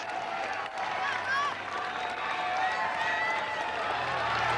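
A city-centre crowd at a 1983 cycling race applauds and cheers steadily after a sprint win, a broad sustained wash of clapping under a commentator's voice.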